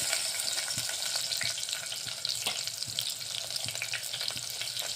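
Chopped onions sizzle steadily in a couple of spoonfuls of hot oil, a dense continuous frying hiss with faint stirring clicks throughout, close and alone with no voices.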